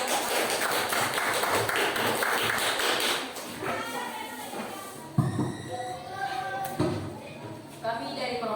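A classroom group claps for about three seconds, a dense patter of hands that fades as people begin to talk.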